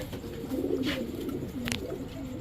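Soft, repeated cooing from Pakistani Teddy, Saharanpuri and racer pigeons close by over a steady hum of background noise, with no voices.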